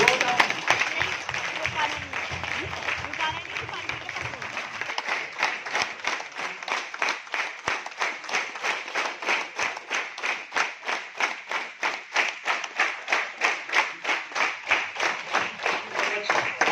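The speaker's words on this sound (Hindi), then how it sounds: "अपने लिए हम जोरदार ताली अपना स्वागत करेंगे" An audience at a business event breaks into loud applause that settles into steady rhythmic clapping in unison, strong and continuous throughout.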